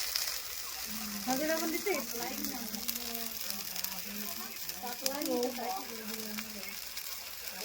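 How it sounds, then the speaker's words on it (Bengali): Eggs cooking in a pan give a steady background sizzle with crackling frying hiss throughout, while voices talk over it for much of the time. "এই যে ডিম রান্না হবে এখন"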